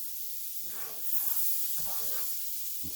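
Butter warming in a frying pan on the stove, giving a steady soft hiss with faint crackles and small bursts of sizzle that swell slightly partway through, close and continuous with no talking.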